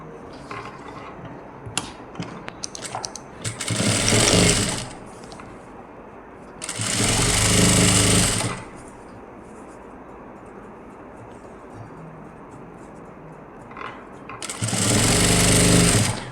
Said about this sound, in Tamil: ஃபோல்ட் பண்ணி ஒரு ஸ்ட்ராங் தையல் போடுவோம்